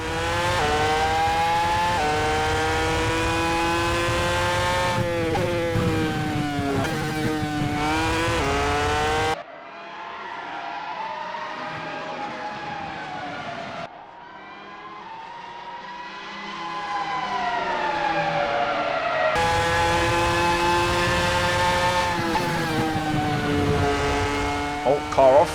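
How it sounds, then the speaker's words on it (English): A Cosworth V10 engine in an Arrows Formula 1 car screams at high revs in Assetto Corsa, rising and falling through gear changes, dropping to a distant whine for several seconds before the loud close wail returns. "Just enjoy some of the V10 engine note."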